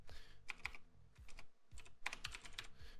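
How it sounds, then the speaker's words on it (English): Close, crisp keyboard typing in irregular clusters of sharp clicks with brief pauses between bursts, no talking. "I'm just typing them out."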